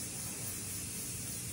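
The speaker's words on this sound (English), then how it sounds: "I have to look like I'm using a ton of this spray just because it does not spray a lot out at once." A grooming spray mists onto a poodle's coat being prepared for show, a close, continuous soft hiss lasting the whole moment.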